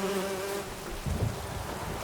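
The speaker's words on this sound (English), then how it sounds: "That's bees." Bees buzz in The Witcher 3, a steady, close droning hum that holds for about two seconds with a brief low rumble partway through, and no voices.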